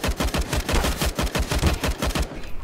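Rapid bursts of gunfire in the tactical shooter CS:GO during a competitive match, loud sharp shots repeating steadily for a few seconds with no talk over them.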